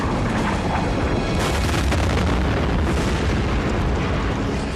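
Deep, sustained rumbling boom of an asteroid impact explosion, loud and continuous across the whole stretch with a broadband roar that swells slightly midway, no voices present.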